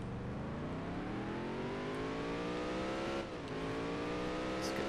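A race car engine in NASCAR Dirt to Daytona revs steadily upward on a practice lap, with a brief dip at a gear shift before it climbs again, loud and continuous.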